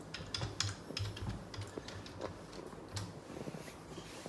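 Quick, irregular clicks of fingers typing on a Bluetooth keyboard connected to an M1 Mac mini, close and crisp, with short pauses between bursts of keystrokes.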